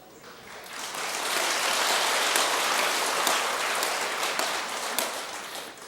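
An audience at a Buddhist monk's dharma talk claps in a broad, crackling wash that builds within the first second, holds steady, then thins toward the end.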